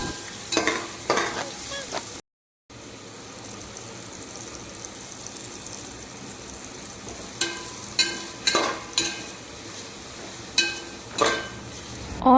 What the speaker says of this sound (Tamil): இப்போ நம்ம கட் பண்ணி வச்சுருக்க ஆனியன்ஸை அதில் போட்டுடலாம்